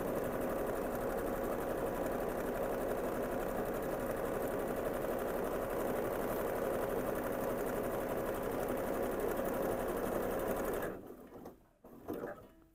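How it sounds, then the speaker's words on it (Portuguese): A sewing machine stitches around the printed edge of a Christmas tree fabric panel, a steady close whirring hum for about eleven seconds before stopping, followed by a few soft handling clicks. "tô costurando toda a volta, tomando o cuidado de seguir a bordinha da estampa"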